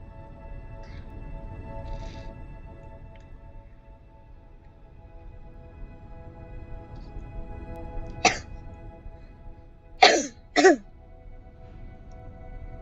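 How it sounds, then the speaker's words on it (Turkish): A quiet room hum with a single cough, then two sharp coughs in quick succession near the end, close to the microphone. "Biraz öksürüyorum."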